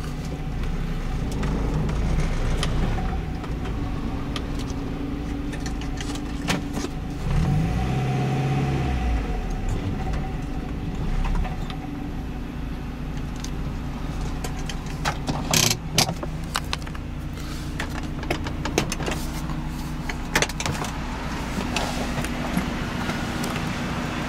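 A 1996 Mazda Miata M Edition on the road, its engine humming steadily from inside the cabin with road rumble, a brief rise in engine pitch partway through, and scattered clicks and rattles.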